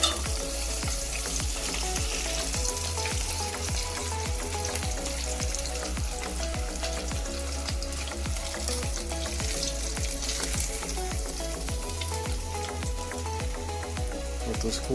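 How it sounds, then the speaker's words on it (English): Hybrid striped bass fillets fry in hot grease, a dense, continuous crackling sizzle with constant popping that stays loud and close for the whole stretch, with no voices over it. "They've been in the grease for a good 4 or 5 minutes."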